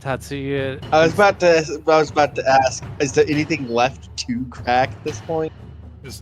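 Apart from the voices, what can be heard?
No everyday noise stands out behind the speech.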